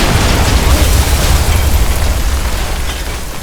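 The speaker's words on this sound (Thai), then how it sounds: "ทุกคนเดี๋ยวผมจะจุดระเบิดเลยนะ" A loud, sustained volcano-sized explosion in Minecraft, heavy low-end boom and crackling debris filling the whole clip and slowly tapering off.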